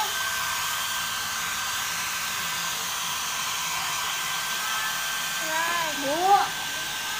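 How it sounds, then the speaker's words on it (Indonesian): A hair dryer blows steadily on a Himalayan Persian cat after its bath, a constant close whirring hum throughout, with a brief meow-like cry and a faint voice rising near the end. "Oh, lagi hair dryer kucing."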